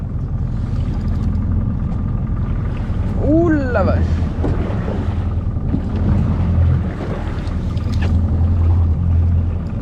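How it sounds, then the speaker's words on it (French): Sea waves slap and surge around a fishing boat out on the open water, mixed with wind buffeting the microphone and a low engine hum, while a man briefly exclaims over the rough conditions. "Ouh, les vagues."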